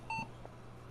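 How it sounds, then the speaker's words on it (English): A single short electronic beep from an old trash-picked computer starting up, clear and tonal, followed by a low steady hum of machinery. "Oh, we got a beep."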